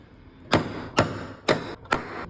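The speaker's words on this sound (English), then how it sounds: "Use the center punch." Four sharp metallic taps of a center punch marking holes, spaced about half a second apart, each a crisp strike with a short ringing tail, close and fairly loud.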